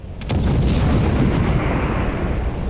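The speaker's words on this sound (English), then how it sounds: "Must be just on the edge of the explosion." A loud, deep explosion bursts and then rolls on as a sustained rumbling roar, with no voices present.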